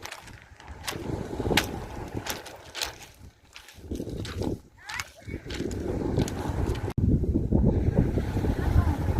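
Gusty warm wind buffets the microphone in rough bursts by the Tyrrhenian Sea in Italy, with faint voices in the background and a hint of sea nearby.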